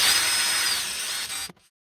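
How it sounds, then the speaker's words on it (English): An electric drill bores holes to mount a piece, giving one close, steady high whine that stops abruptly, then silence. "I got to drill these holes and get this piece mounted"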